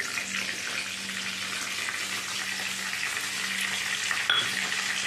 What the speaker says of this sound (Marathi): मी आता त्याच्यात जिरं टाकते